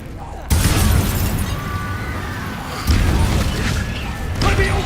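Incendio fire spell cast in Hogwarts Legacy, two loud whooshing fiery bursts, the second about two seconds after the first, each trailing into a crackling roar, with faint voices mixed in.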